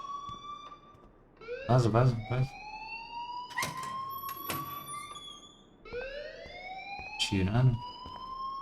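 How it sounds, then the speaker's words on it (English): An alarm blares in the Life is Strange video game, rising, pulsing electronic tones that repeat in cycles while people talk over it. "please turn off that alarm since that's your job"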